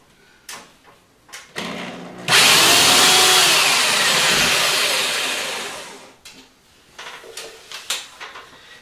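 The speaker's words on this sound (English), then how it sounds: "once you've piloted those holes, just a couple of quick screws here" A power drill driving screws into a suspended ceiling grid: a loud, steady whir of about four seconds between shorter bursts of clicks and handling noise, close to the mic.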